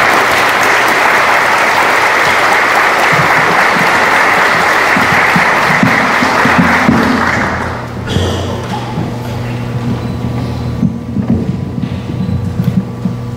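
A full house at a lecture on German immigration and genealogy applauds a researcher and genealogist, loud dense clapping for about eight seconds that then fades into scattered last claps, thumps and a low room hum.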